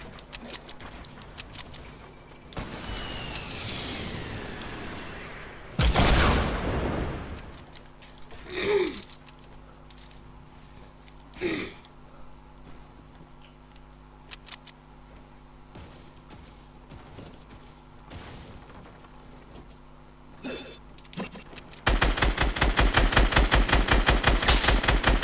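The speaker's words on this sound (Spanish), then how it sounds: "¿De dónde están tirando los tiros esos?" Video game gunfire in a PlayStation 4 shooter, scattered single shots and short bursts with quieter gaps between them, ending in a loud sustained rapid-fire burst from an automatic weapon.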